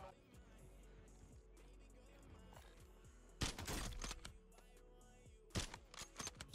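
Gunfire in the Warzone video game: a faint, steady stream of distant shots, then two louder bursts of rapid fire that stand out above the quiet background, with no voices.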